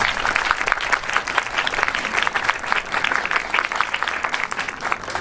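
A large audience applauds at a Westgate Community School Class of 2025 graduation ceremony, a loud, dense wash of clapping that holds steady throughout, with no speech on top.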